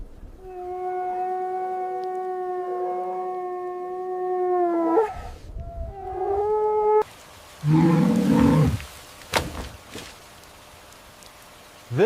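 A wolf holds one long, steady howl that falls at its end, then gives shorter wavering calls before noisy rustling and sharp clicks follow.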